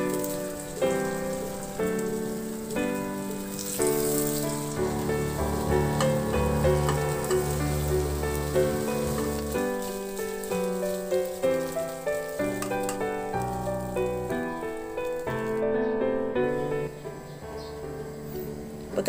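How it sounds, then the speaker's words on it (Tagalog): Scrambled eggs frying in a pan, heard as a dense, continuous sizzle like rain on a surface, steady and fairly close throughout with no talking. "At lutuin ko na lang din siya ng scrambled egg."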